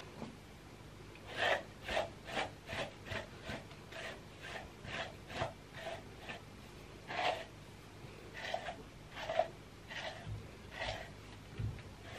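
A hairbrush drags through long, badly tangled, slightly damp hair in a quiet room, a series of close, soft rasping strokes repeating at an uneven rhythm, each one a brief scratchy swish.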